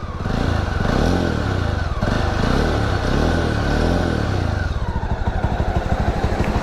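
A Jawa motorcycle engine idles steadily with a newly fitted silencer, its loud, close exhaust thumping in a rapid even beat that briefly swells and settles, running alone without talk.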